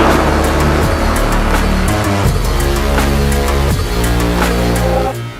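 Interior drone of a 1992 Honda NSX Type R, a rare Japan-market car without sound deadening: a loud, steady engine and road roar fills the cabin, with the engine note rising and falling a few times.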